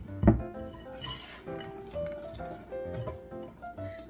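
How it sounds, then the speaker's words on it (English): Metal whisk clinking against a bowl while mixing Texas sheet cake batter, with a sharp clatter near the start and steady light scraping and tapping throughout, close and fairly quiet. "so I just whisk it together."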